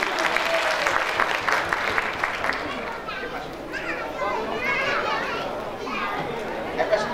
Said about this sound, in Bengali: স্যারের জন্য জোরে একটা হাততালি হোক